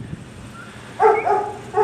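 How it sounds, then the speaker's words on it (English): A sheepdog working ewes on a sheep and cattle farm near Rotorua gives a few sharp barks at mid distance, with a short pause between the bursts. "I hear the dog barking, so the dog is doing his thing."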